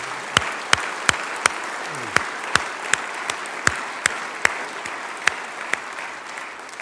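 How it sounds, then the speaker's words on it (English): An audience applauds at a governor's State of the State address, steady close clapping that fills the room, with sharp periodic clicks recurring through the applause. "go ahead and cheer for that."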